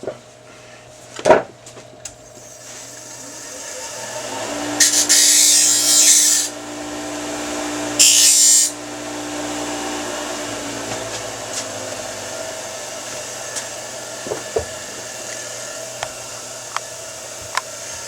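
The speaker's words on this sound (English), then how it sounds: "all I did was go over to my bench grinder and just kind of ease that a little bit" A bench grinder briefly eases the edge of a homemade aluminum body panel for a WLToys 12428 RC car, two short loud bursts of grinding over a quiet workshop hum, with a few small knocks around them.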